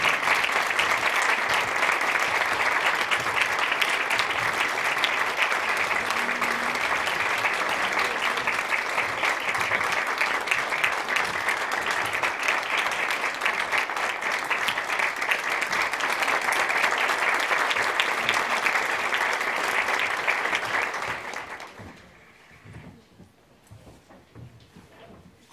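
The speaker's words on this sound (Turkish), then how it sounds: "alkışlarınızla dinleyelim" Concert audience gives sustained applause for the conductor of a Turkish music choir at a university, a dense, loud, even wash of clapping for about twenty seconds before it abruptly drops to quiet rustling.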